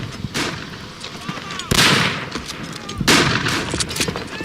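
Rifle gunfire in the World War I shooter game Verdun, two loud sharp shots about a second apart amid scattered distant battlefield fire, with a player talking over the action.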